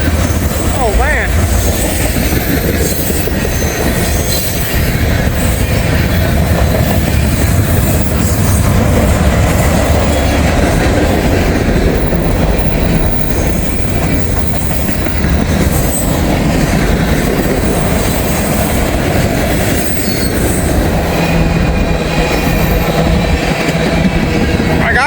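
A train rumbles past up close, loud and continuous, with rattling wheels, clattering rail joints and occasional squeals.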